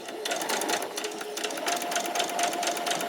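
A sewing machine stitches fabric for a pleated top, running in a fast continuous whirring rattle with quick regular needle pulses, close and steady the whole time, with no talk.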